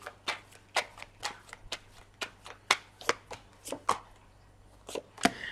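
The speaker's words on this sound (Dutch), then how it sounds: "Ik zal de kaarten schudden om te kijken wat deze week voor jou gaat brengen." Tarot cards are shuffled by hand in a quiet room, giving a steady series of about seventeen crisp, close riffling slaps at a brisk, slightly uneven rhythm.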